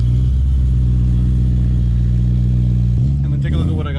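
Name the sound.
BMW E92 M3 engine revving heard from inside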